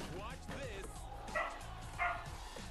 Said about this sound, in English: She's just barking because my ma just got home.